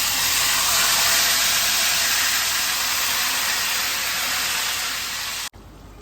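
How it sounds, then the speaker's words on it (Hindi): A loud, steady hiss of hot tempering oil sizzling as it is poured into kadhi curry fills the clip, then abruptly cuts to a quieter background near the end. "तड़का हमारा तैयार है, अब हम इसे कड़ी में शामिल करेंगे।"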